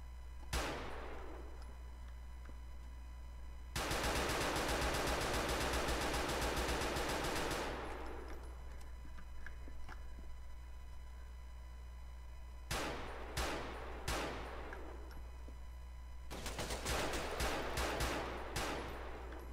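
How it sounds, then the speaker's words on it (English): Bursts of automatic gunfire in a GTA IV firefight involving an AK-47: a long sustained volley, then several short rapid bursts and a final sustained stretch, loud and fairly close with no talk. "This is some intense firefight."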